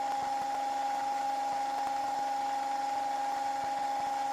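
A loud, steady whir from a rotor spinning during a balancing test, with a strong constant tone and faint ticking from cogging; close and continuous, no talking.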